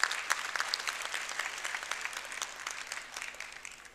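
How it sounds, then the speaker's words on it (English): An audience at a speech at Aligarh Muslim University breaks into a round of applause, a crowd of crisp, overlapping claps that gradually thins and fades toward the end. "So we should give him a big round of applause."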